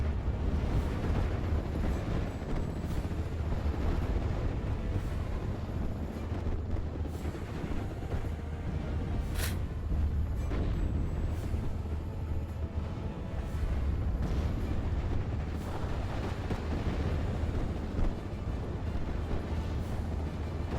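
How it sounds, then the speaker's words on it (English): Mortar fire batters buildings in the WWII strategy game Steel Division 44. A dense, continuous low rumble of distant explosions carries a few sharper blasts popping out at irregular intervals. "Looks like these buildings are starting to get destroyed by those mortars."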